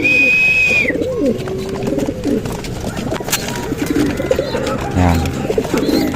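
Pigeons coo close by in soft, repeated throaty bursts, layered over faint rustling and a brief high whistle at the start.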